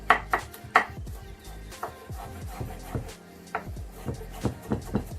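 A knife roughly mincing garlic on a board, giving a rapid, uneven series of close, crisp chopping taps, with no voices.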